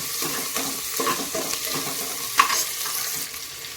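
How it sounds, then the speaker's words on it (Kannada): Finely chopped onion fries in a pan, giving a steady close sizzle broken by a few stirring scrapes and small clinks, with no talking. "ನಾನೀಗ ಇಲ್ಲಿ ಸಣ್ಣದಾಗಿ ಕಟ್ ಮಾಡಿಟ್ಟಿರೋಂಥ ಈರುಳ್ಳಿ ಹಾಕ್ತಾ ಇದ್ದೀನಿ"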